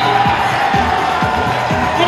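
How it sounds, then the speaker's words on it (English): Roller derby arena crowd chanting in the stands at a hometeam championship bout, a loud, dense roar with a steady rhythmic chant pulsing about twice a second throughout. "We got a hardcore chant going over here in sections 5 and 6"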